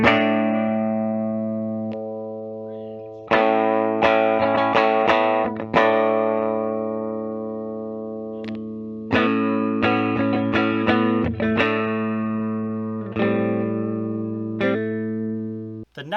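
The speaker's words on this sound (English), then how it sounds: "run through our tones of our signature Dave Grohl guitar here." A 2014 Gibson Dave Grohl signature electric guitar played through its neck pickup, ringing sustained chords and picked notes with a full, bassy tone, loud and close, phrases restruck every few seconds, no talking.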